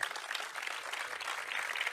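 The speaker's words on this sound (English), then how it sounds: "this is an applause for the students who are with us today" Audience applause at an outdoor solidarity festival in Malgrat de Mar, honouring students; dense, steady clapping from a crowd throughout, moderately loud with no pauses.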